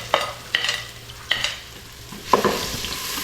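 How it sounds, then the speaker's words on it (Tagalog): Garlic sautés in a pan under a soft, steady frying sizzle, broken by four sharp stirring scrapes at a loose, uneven pace, heard close with no voices. "Gisa mo ng bawang."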